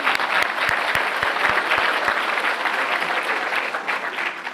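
A graduation audience at a pharmacy school commencement gives steady, full applause for the photographer, with a few sharp claps close by standing out in the first half.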